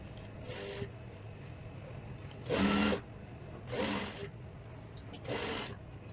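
A sewing machine stitches pocket cloth for trousers along a marked line in three short faint bursts of whirring, separated by quiet pauses in a calm room.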